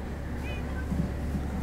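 Cats meow faintly in Minecraft, two or three short mews under a steady hum of game ambience.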